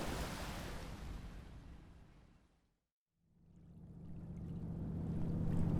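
Ocean waves roll in The Last of Us, a broad wash of surf that fades to near silence midway and then builds back up, louder by the end.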